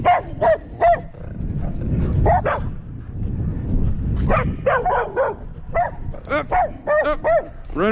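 Several dogs bark in loud, close bursts on a neighborhood walk, clustered at the start and in a rapid flurry toward the end, with a person's voice and rustling noise in between.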